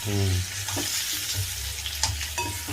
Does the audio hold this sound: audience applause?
no